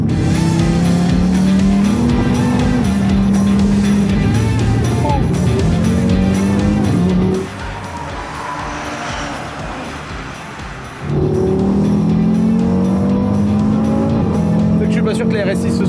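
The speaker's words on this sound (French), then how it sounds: "oh le Huracan qui arrive frère" A Lamborghini Huracan race car roars onto a circuit with rising and falling engine revs and some tire squeal. The sound dips for a few seconds, then the revs climb again, with excited voices talking over it.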